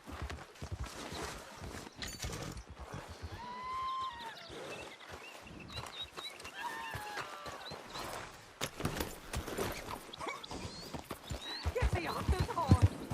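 Horse hooves clip-clopping in the Western video game Red Dead Redemption 2, a steady walking rhythm under frequent talking, with an occasional whinny and game ambience around it.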